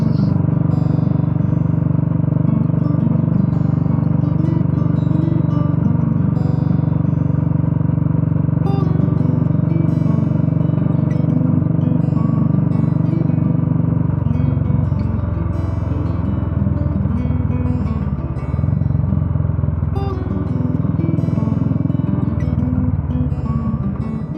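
A 2016 Royal Enfield Classic motorcycle rides through countryside near Napier, its engine holding a loud, steady drone throughout with slight shifts in tone and no talking.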